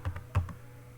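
A few quick keystrokes on a computer keyboard during C++ coding, two soft taps and then a firmer press of the enter key, close and dry with no talk.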